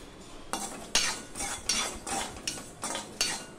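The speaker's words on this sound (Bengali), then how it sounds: "আমি এই তিলগুলো প্রথমে এমনিতেই ভেজে নেব শুকনো খোলায়" Sesame seeds dry-roasting in a hot wok (kadai) are stirred with a utensil, giving a rhythmic run of close, crisp scraping and rattling strokes about twice a second, with no voices.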